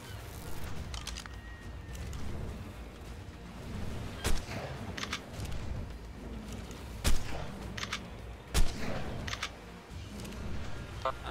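Gunshots ring out in the survival game Ark, fired at a creature. Three loud, sharp reports come at irregular intervals, with a few fainter cracks, over a constant low background rumble.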